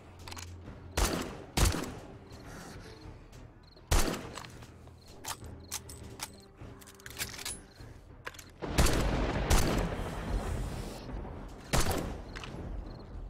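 In the video game 7 Days to Die, single gunshots and short bursts crack out at irregular intervals during a horde fight, each loud and sharp with quieter thuds and movement between shots.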